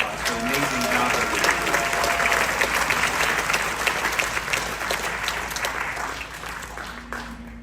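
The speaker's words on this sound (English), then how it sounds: "So please give yourselves a round of applause for the amazing job" A large audience on a cruise-ship company gathering applauds steadily and loudly for several seconds, a dense wash of clapping that slowly tapers off, with a voice speaking faintly beneath it.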